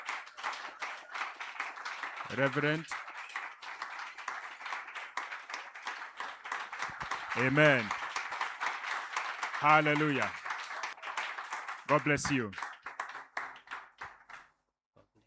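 A revival conference congregation claps steadily in praise through a morning church service. Voices speak and call out over the rolling applause, which swells and eases across the passage.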